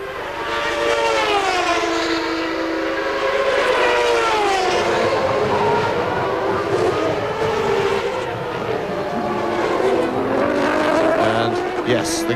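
A 1993 McLaren-Ford Formula 1 car at full throttle in the Canadian Grand Prix, its loud high-pitched engine screaming and sweeping up and down through the gears continuously, with race commentary over it.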